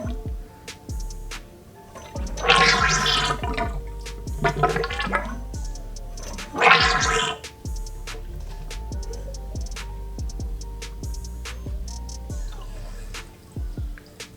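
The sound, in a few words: motorcycle fork oil bubbling as the fork is pumped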